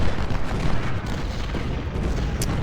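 Continuous rumbling battlefield din of artillery fire in the Ultimate General: Civil War game, Stones River battle, with dense low booms and crackling blasts layered steadily throughout, no voices.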